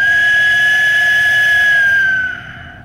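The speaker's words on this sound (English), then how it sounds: "The death whistle is supposed to have a haunted sound to it. It's actually supposed to sound like somebody screaming." Ceramic Aztec death whistle blown in one long, loud, piercing scream-like note with breathy hiss, held for about two seconds before cutting off.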